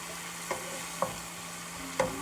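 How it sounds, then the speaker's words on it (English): Sausage frying in a pan for red beans and rice, a steady low sizzle with three sharp clinks or scrapes of a utensil stirring against the pan at uneven intervals, close and moderately loud with no talking. "Once you get them burnt on both sides, go ahead and pull your sausage out."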